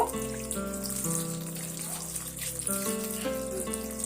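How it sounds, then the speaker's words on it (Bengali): Cold water is poured from a tap over soaked soya chunks in a kitchen, producing a continuous splashing trickle with a steady tonal hum in the background. "এবার আমি এই সোয়াবিনের মধ্যে ঠান্ডা পানি দিয়ে দেব"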